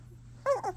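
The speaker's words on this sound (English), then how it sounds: "this is Xena and Eli's 9-day-old German Shepherd puppies" Nine-day-old German Shepherd puppies give a short pair of high whimpering cries close by, after a quiet stretch with faint background hum.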